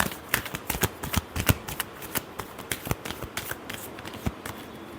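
A tarot deck is shuffled close up, a brisk run of sharp card snaps and riffles in an irregular rhythm, fairly loud and alone without any voice.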